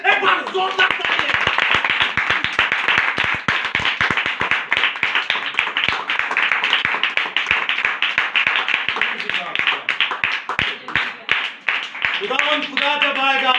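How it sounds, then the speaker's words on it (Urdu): A church congregation at a Feast of Tabernacles service claps loudly and continuously, many hands forming dense, close applause with sharp individual claps, while voices and singing rise beneath it near the end. "یسوع مسیح کے لیے, عید قیام کے لیے ایک بار زوردار تالیاں"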